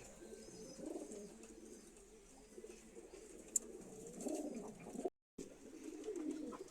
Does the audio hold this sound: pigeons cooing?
yes